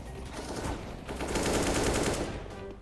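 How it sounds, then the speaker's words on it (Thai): Automatic gunfire from Counter-Strike 2 rattles in fast sustained bursts, loud and close, filling the whole short stretch with dense rapid shots. "ยิงทะลุสโมกมั่วมั่วซัวไปหมด"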